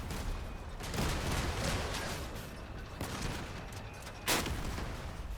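Video game gunfire rattles in bursts from rocket and gun weapons in a battle pass shooter, dense repeated shots with a sharper blast near the end, fairly loud and up close.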